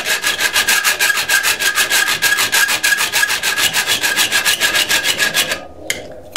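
A hand file sharpens the teeth of a saw blade in steady back-and-forth strokes, each producing a bright rasping scrape, around two dozen evenly spaced strokes, close and loud, ending with a few isolated scrapes.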